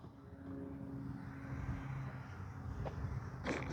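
An FMS 80mm Shark RC jet on its landing approach, flaps down, gives a steady whooshing electric ducted-fan whine of moderate loudness. Its pitch shifts slightly as it comes in, and a couple of brief higher noises land near the end.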